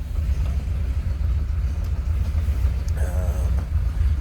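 A 1939 Ford Deluxe coupe's flathead engine idles with a steady low, throaty rumble close by, a brief higher whine rising over it partway through.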